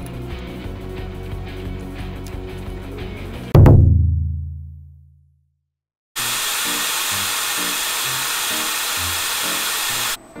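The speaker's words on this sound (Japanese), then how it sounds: "ミストクーラント装置のエア量、クーラント量を調整して加工に備えます。" A mist coolant system sprays air and coolant on a milling setup cutting aluminium test stock in a vise with a roughing end mill: a steady, loud hiss cuts off into a falling hum and silence, then the hiss starts again.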